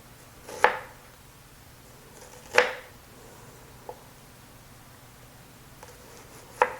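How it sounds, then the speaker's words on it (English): A kitchen knife cuts thin slices on a cutting board: a few sparse, close, crisp chops spaced seconds apart over a quiet background. "I'm just going to make thin slices."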